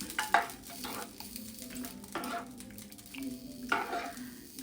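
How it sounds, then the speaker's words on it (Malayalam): Beetroot and carrot curry is stirred and mixed in a pan, soft scraping strokes and light clatter over a faint sizzle, with a few sharper metallic taps, fairly quiet and close. "ഇതിന് കുറച്ച് കറി നന്നായിട്ട് മിക്സ് ചെയ്യാം."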